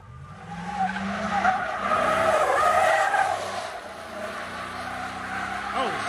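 A car slides sideways with a long, loud tyre skid, its squealing rubber and engine roar rising and falling through the stretch, with faint voices in the background.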